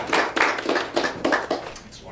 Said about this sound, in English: Please give Lawrence a round of applause.